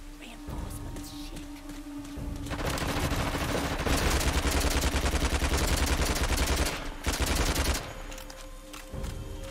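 Sustained gunfire in Uncharted: The Lost Legacy, a dense, loud rattle of automatic weapons that builds from about 2.5 seconds and keeps going, with a short lull near 7 seconds before the shooting resumes.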